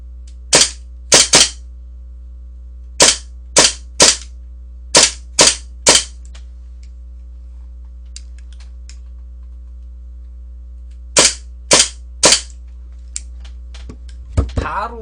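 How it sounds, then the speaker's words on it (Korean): An Inokatsu Colt M1911A1 airsoft pistol fires sharp, loud single shots close up, in clusters of two or three with pauses between, over a steady low hum, with a voice speaking briefly near the end. "이노카츠 콜트를 한번 쏴보겠습니다"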